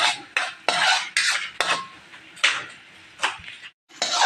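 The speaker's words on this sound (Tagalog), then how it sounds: "magisa po tayo ng bawang" Garlic sautéing in butter in a pan, heard as repeated scraping and clattering of a utensil against the pan in short bursts with a gentle sizzle underneath, close and fairly loud.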